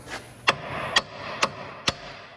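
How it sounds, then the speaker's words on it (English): A hammer strikes the steering knuckle of a 2012 Toyota Matrix four times in even succession during front wheel bearing removal, producing sharp metallic whacks that are close and clear. "I usually just give the knuckle a whack with the hammer"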